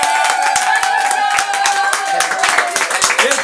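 A small group claps rhythmically at a child's birthday party, quick hand claps repeating close by, with voices chattering and calling out over the clapping.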